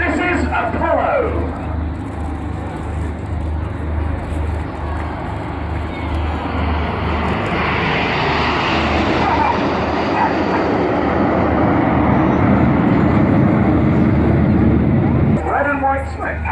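Red Arrows display jets pass over the Sunderland Airshow with a broad roaring wash that swells to a louder peak midway and stays strong, heard from the crowd while a commentator talks.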